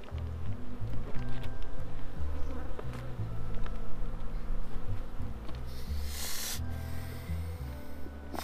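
Honeybees swarm densely around an open beehive during a winter hive inspection, a loud continuous buzzing close by with a few brief rustling bursts.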